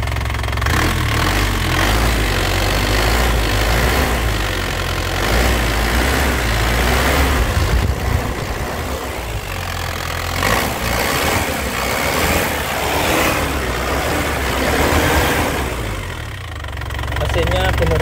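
The engine of a white 2014 GT runs loud and close, its mid-pitched rumble rising and easing in repeated throttle blips, with a voice talking over it at times.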